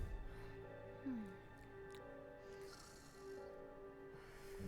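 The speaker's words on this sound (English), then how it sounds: "Someone is snoring, it's true." A character snores in a video game scene, slow low rasping breaths repeating steadily at moderate distance under a quiet musical hum.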